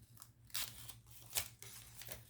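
Scissors snip through paper while a Christmas card is made, giving several short crisp cuts at a steady pace, close up and fairly quiet, with no talking.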